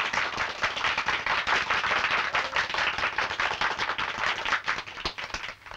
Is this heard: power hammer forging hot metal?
no